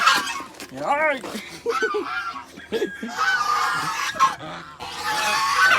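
Two mother geese honk loudly and repeatedly at close range on a farm, harsh nasal calls coming in uneven bursts, while someone talks between and over them.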